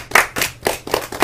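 A few people clap in a loose rhythm during a casual K-pop group live broadcast, about five or six sharp, close bursts of clapping spaced unevenly across a brief moment.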